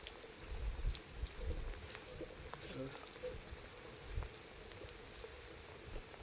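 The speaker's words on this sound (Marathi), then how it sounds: "पाऊस फुल आहे त्याच्यामुळे ते हे होत आहे." Heavy monsoon rain pours steadily over a hilltop fort at Mandangad on Independence Day, a dense continuous hiss with low rumbling gusts throughout, no voices over it.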